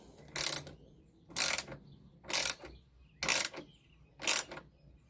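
Five evenly spaced bursts of ratcheting clicks as a clamp with a 14 mm fitting is cranked down tight on scrap wood, each pull about a half second long, close and fairly loud with quiet gaps between.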